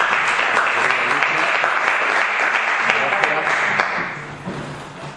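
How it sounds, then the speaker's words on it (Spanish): An audience applauds after an interview, with dense, close clapping that holds steady and then tapers off in the last second, a few voices audible underneath. "le damos un aplauso"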